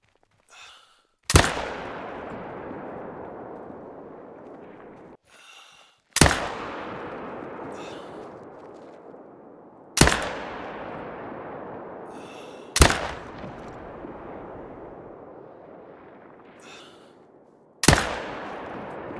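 Five loud rifle shots ring out several seconds apart in theHunter: Call of the Wild on a reindeer hunt in the Medved Taiga reserve, each a sharp crack followed by a long fading echo, with no talking.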